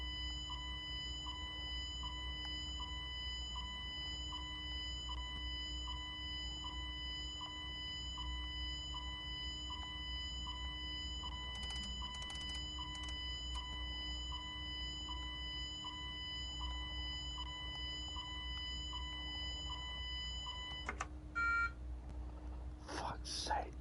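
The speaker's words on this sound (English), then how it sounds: "Proximity alarm." A proximity alarm in the train cab of Train Sim World 6 beeps in a steady, evenly spaced rhythm over constant electronic hums. A brief burst of other noise breaks in near the end.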